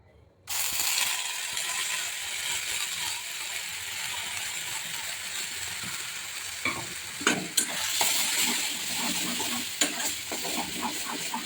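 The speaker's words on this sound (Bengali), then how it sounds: "হিংটা একটু ভাজা ভাজা হয়ে গেলে এর মধ্যে ঢেলে দেবো মটরশুঁটি পেস্টটা" Green pea paste hits hot oil with fried asafoetida, starting a sudden loud sizzle that continues evenly, later joined by scraping stirs and a few clattering knocks of the spatula.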